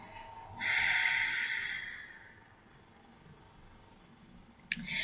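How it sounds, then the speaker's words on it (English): A single long, breathy exhale rushes out close to the microphone during a relaxation breathing exercise, then fades into quiet before a sharp click near the end. "Exhale, exhale, exhale"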